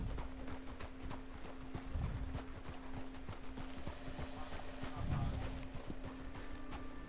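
Horse hooves clip-clop in Red Dead Redemption II in a steady walking rhythm, moderately close, with a few heavier thuds and a faint voice or two in the background.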